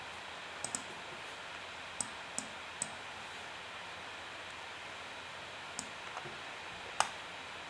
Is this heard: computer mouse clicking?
yes